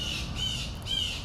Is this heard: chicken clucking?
no